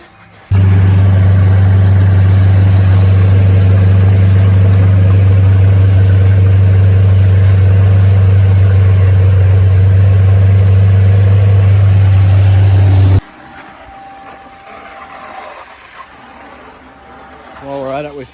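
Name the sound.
petrol engine running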